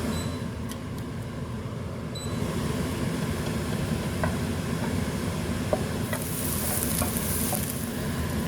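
Garlic fries in a pan, producing a constant close sizzle with scattered small pops, while a steady fan-like hiss runs underneath; nobody talks.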